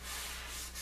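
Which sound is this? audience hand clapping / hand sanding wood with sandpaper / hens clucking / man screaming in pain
hand sanding wood with sandpaper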